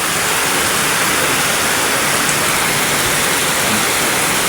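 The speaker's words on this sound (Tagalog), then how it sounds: "talagang grabe yung lakas ng ulan na to" Heavy rain pours in Tondo, Manila, a loud, dense, continuous hiss of water drumming down without a break and no voices.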